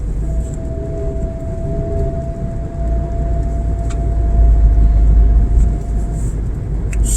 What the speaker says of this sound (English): so we are just driving up the grade, making the drive on the grade.